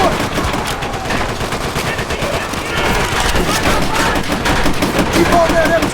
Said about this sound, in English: Take out that MG!